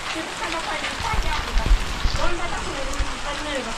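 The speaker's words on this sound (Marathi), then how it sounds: "पाऊस आला" Steady rain patters on a surface in a dense hiss during a storm, with a few louder drips and thuds, loud and close, without clear speech.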